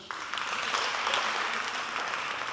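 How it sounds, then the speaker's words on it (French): Applause from an audience at a French team game show, a steady dense wash of clapping filling the short stretch without pause. "Et on les applaudit, s'il vous plaît."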